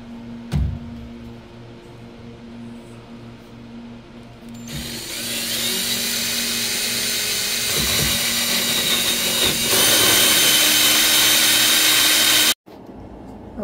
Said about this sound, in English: we drill a hole to the ceiling